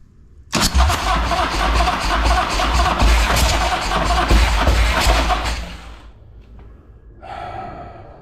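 An old custom motorcycle parked for 20 years cranks hard for about five seconds, a loud close grinding churn that fails to catch, then stops, followed by a brief fainter burst of cranking.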